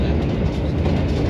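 Ambarawa Express passenger train heard from inside a carriage while travelling between Babat and Lamongan, a steady, loud rumble of rolling wheels and low engine drone with faint rail clatter, no voices.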